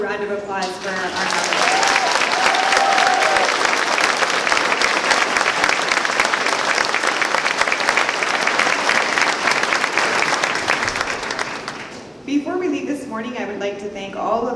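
A speaking voice gives way to sustained, full applause from the audience at a Grade 9 school awards ceremony, filling the room for about ten seconds before dropping off as the voice resumes.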